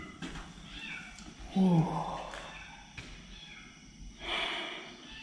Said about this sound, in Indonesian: itu kucing menjerit-jerit ya karena saya tinggal gitu